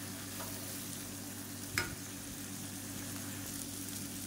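Chickpea masala sundal sautéing in a pan, a steady soft sizzle and frying hiss running throughout with one brief stir or clink of the utensil partway, no talking.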